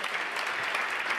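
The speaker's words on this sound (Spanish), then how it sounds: "fuerte el aplauso" Audience applause at the 2022 Tango World Championship in Buenos Aires, rewarding tango dancers after their routine; dense, steady clapping from a crowd fills the whole short stretch without a break.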